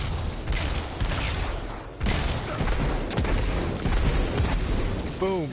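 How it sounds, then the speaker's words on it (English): Several booming explosions from a single kill in the video game Destiny roll out in quick succession over a dense, loud battle din of gunfire and mechanical noise, with a brief gap midway. "Multiple explosions off of one kill."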